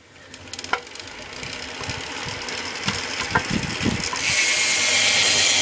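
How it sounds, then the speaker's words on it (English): A stock BMX rear hub's freewheel ticks in a rapid, continuous ratcheting buzz, close up, with a few louder clunks and a rising whirr near the end. "So let's listen to this hub sound."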